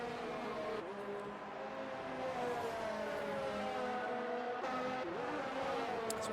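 Formula 1 race cars in the F1 2019 video game whine steadily at high pitch, engine notes rising and falling in layered tones as several cars run together, with no talk over them.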